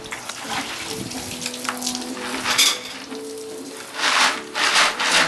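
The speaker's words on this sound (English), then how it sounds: "we have water running through the pre-chiller" Steady running water flows through the pre-chiller of a homebrew wort chiller just after a 90-minute boil, a continuous hiss like a tap or sink filling with brief louder surges and faint rubbing handling noises.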